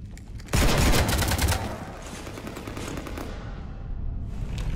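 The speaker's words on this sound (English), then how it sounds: "You want to stop shooting up my ship?" Sustained automatic gunfire erupts suddenly and rattles on in rapid bursts as a ship is shot up in a Mass Effect video game scene, loud and dense at first, then settling into a lower continuous barrage with no speech.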